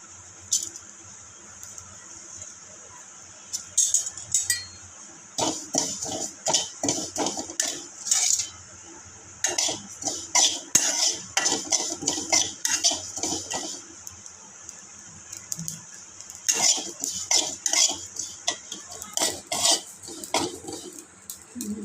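Cumin and carom seeds dry-roasted in a pan for bhakarwadi, stirred with a metal spoon in repeated scraping and clinking bursts separated by short pauses, close and moderately loud, with a faint steady hiss beneath.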